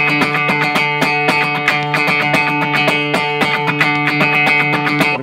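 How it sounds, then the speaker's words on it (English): An electric guitar with dampened strings chugs in tight, rhythmic strums through distortion and effects, loud and close, with short choppy accents over a sustained ringing tone. "live you actually have to dampen those strings."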